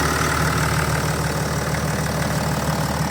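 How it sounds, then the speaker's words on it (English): A cold BMW X6 engine idles smoothly and steadily, a close, even mechanical hum with a low throb and a faint repetitive ticking running unbroken throughout. "it is a lovely smooth engine and no signs of oil leaks I've seen."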